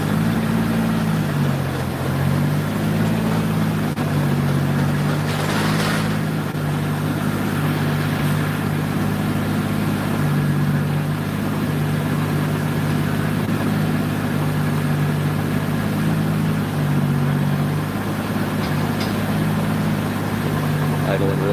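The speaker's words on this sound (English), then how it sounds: "Idling really good right now." A car engine idles smoothly and steadily, a low continuous hum with a faint periodic waver, while people talk loudly over it throughout.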